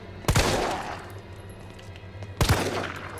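Two loud gunshot bursts about two seconds apart, fired at zombies in the Resident Evil 3 Remake, each a sharp crack with a short decaying tail over a low steady hum, with no talking.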